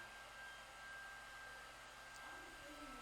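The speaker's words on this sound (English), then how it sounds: "We got a hairdryer going in the background" A hair dryer runs in a room behind a football manager game commentary, a constant faint airy whir with a thin steady whine, unchanging and alone for the whole stretch.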